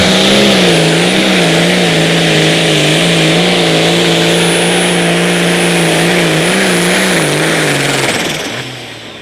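A Pro Stock pulling tractor at an Outlaw Pulling event in Wisner, Nebraska, roars loudly and steadily at full throttle throughout the pull, with a wavering pitch, then drops off sharply near the end as the engine comes down.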